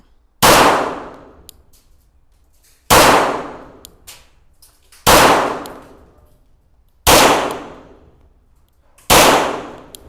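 Five loud, sharp shots from an RIA Tac Ultra 9mm 1911 pistol fired at 10 yards, evenly spaced about two seconds apart, each with a crisp crack that rings and decays before the next.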